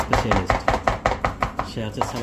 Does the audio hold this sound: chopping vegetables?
yes